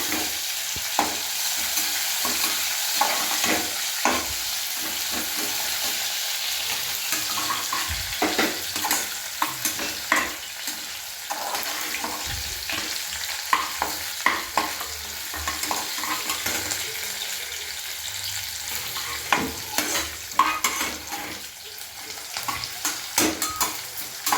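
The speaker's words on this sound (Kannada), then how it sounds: "ಈರುಳ್ಳಿನ ಬ್ರೌನ್ ಕಲರ್ ಬರೋವರೆಗೂ ಕೂಡ ಫ್ರೈ ಮಾಡ್ಕೊಳ್ಳಿ." Onions frying in a pan while being stirred for a Kannada vangi bath, a steady sizzle with frequent scraping stir strokes and occasional utensil clinks, close and continuous with no talking.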